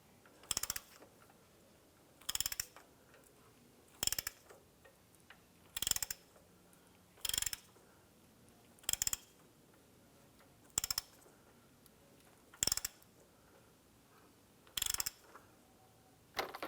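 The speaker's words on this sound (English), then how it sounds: "we're going to go ahead and just use our ratchet" A ratchet cranks the crankshaft of a 2001-2005 Honda Civic engine, giving brief bursts of quick clicking roughly every two seconds, separated by quiet gaps, close but fairly soft.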